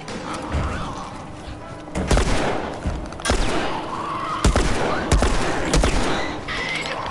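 Rapid bursts of gunfire in The Last of Us, loud and repeated, with sharp blasts every second or so over a continuous din.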